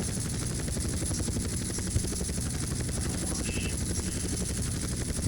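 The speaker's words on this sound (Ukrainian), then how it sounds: "Гелікоптеру важче." A helicopter flies in GTA San Andreas, its rotor throbbing in a steady, loud, continuous beat with a high whine running above it, heard alone without talk.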